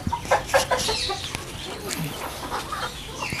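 Aseel-breed rooster, white in colour, clucking in a farm setting, a few short clucks close by in repeated bursts over steady background noise.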